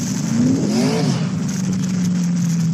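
Car engine revving in third gear while driving, likely a custom car run on E85 or methanol, a loud close roar rising in pitch then settling into a steady drone, with no talk.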